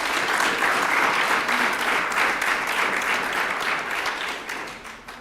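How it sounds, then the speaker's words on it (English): Audience applause at a Remembrance Day gathering, a sustained wall of crowd clapping that stays strong for several seconds before thinning and fading at the end. "Please give yourselves a round of applause."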